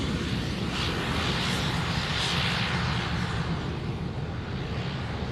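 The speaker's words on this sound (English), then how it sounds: "Here's that other Dash 8 you were talking about, Brendan." A Dash 8 turboprop airliner at Sydney Airport gives a steady, loud engine roar with broad rumble and a hissing upper whine that swells and fades slightly, continuous throughout with no talk.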